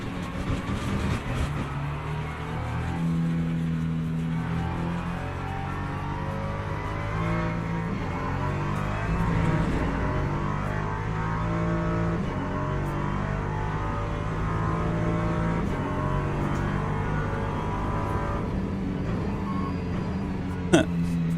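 A race car engine in the iRacing sim drones steadily through gear changes under faint background sound, with a person speaking at times.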